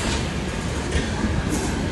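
A train pulls out of Tatanagar station, a steady, loud rolling rumble of rail cars carried close by, with faint wheel noise and no voices over it.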